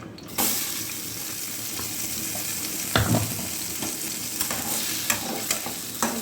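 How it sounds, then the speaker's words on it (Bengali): Green pea paste fries in mustard oil with asafoetida in a wok, producing a constant close sizzle with intermittent scraping and knocking of the spatula as it is stirred, with no voices. "ভেজে নিই, ভালো করে কষিয়ে নিই।"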